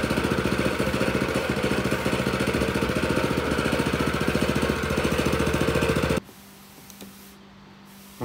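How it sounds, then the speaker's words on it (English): A roller compactor running over a porcelain patio on an open graded base to consolidate polymeric sand gives a steady, loud engine drone with a rapid vibrating pulse, cutting off abruptly about six seconds in to near silence. "we're going to do one more pass with the roller compactor just to make sure we've consolidated that sand"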